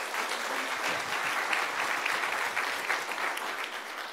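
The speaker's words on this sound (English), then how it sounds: "So if you can all please give Audrey a round of applause" Steady, sustained applause from an audience at a city commission meeting, a dense even patter of many hands clapping throughout with no voices over it.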